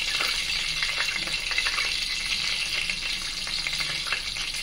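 Mustard seeds and cumin frying in hot oil: a continuous close sizzle with scattered crackles and pops, steady throughout and with no talking.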